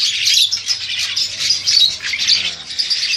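A crested myna calls close by in a continuous stream of bright, rapid chirps and whistles, loud and clear for the whole stretch with no talk.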